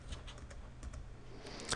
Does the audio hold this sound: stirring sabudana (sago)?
no